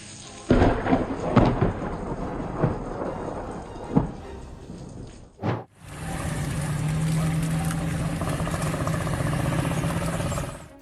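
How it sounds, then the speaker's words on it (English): Thunder on a stormy night in Texas, a loud crash and rumble followed by a steady roaring wash like heavy rain or wind, after an opening stretch of scattered cracks and noise. "On a stormy night in Texas, lightning created a dramatic scene."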